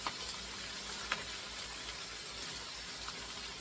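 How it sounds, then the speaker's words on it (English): Spring cabbage with tasso sautés in a pot, giving a soft, even sizzle that holds steady throughout, quiet and unbroken. "Let this cabbage get down there and start sauteing down"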